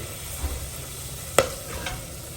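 Spices, cashews and fennel seeds roast in a pan with a soft steady sizzle, a spoon scraping through now and then with one sharp clink against the pan.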